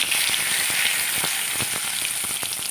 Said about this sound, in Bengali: তেলটা গরম হয়ে গেছে, দুটো তেজপাতা দিয়ে দিচ্ছি